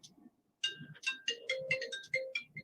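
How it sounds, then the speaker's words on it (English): A phone rings nearby with a bright, melodic ringtone of quick repeated notes that plays on for a couple of seconds in an otherwise quiet room. "my phone just started ringing"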